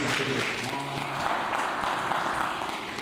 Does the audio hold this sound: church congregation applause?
yes